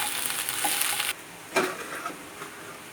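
Okra sizzles and crackles in a hot pan, with stirring scrapes; the frying noise drops off sharply midway, followed by a few clanks.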